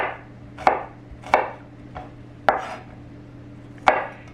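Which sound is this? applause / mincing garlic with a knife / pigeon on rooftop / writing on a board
mincing garlic with a knife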